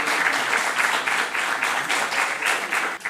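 A school quiz audience gives the competing teams a round of applause, steady and fairly loud, with a rhythmic pulsing that suggests coordinated clapping from a moderate crowd, fading briefly at the very end.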